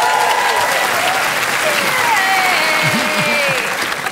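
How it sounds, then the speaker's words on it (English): Sustained applause from a TV comedy panel show studio audience, dense clapping that fills the space at steady loudness, with crowd murmur beneath. "Give them a big round of applause."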